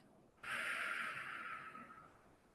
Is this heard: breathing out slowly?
yes